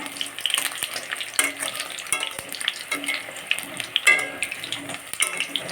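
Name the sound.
barula fritters frying in a pan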